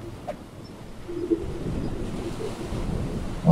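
Ocean waves and surf wash steadily at sea in the survival game Stranded Deep, a broad continuous rush with wind noise, filling the background without speech.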